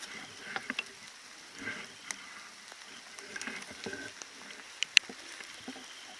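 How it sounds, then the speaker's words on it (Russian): Light rain in the taiga of the Komi region falls softly and irregularly, with a few sharper ticks standing out against a quiet outdoor background. "Переждем дождик."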